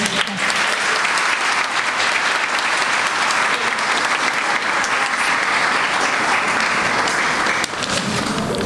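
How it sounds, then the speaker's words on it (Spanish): A large audience applauds participants at the close of a family-therapy session, a dense, steady wash of clapping that holds loud and even for about eight seconds before a slight dip near the end. "Fuerte el aplauso para las participantes Amarili Fernández, Maridaña Gil y Marta Came"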